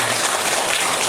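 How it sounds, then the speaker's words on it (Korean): Church congregation clapping together during a Sunday morning service, a brief dense burst of applause that fills the room evenly. "하나님께 감사와 영광의 박수 올려드리겠습니다."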